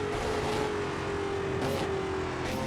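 A race car engine drones at steady high revs in a PC racing game, a continuous close whine with slight pitch dips as the car shifts and corners.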